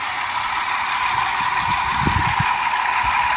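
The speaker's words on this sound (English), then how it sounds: "Engine on and purring like a kitten" A Ford Freestyle car engine idling, a steady even hum with a constant mid tone and faint low rumbling pulses, close and alone.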